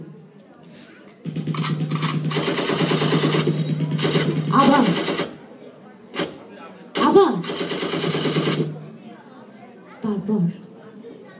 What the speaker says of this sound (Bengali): হঠাৎ গুলির শব্দ